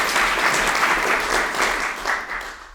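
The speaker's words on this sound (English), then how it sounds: "So I'd love to give applause to Sasha and Ivy" Steady applause from a live Dungeons & Dragons show audience, dense clapping that holds for a few seconds before tapering slightly.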